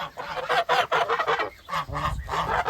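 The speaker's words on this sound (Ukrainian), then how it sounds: "Оце самі перші каченята, ті, що з восьми вилупились" Ducks and young ducklings on a home farm quack and honk in a dense, continuous run of overlapping calls, close and fairly loud, with no talk over them.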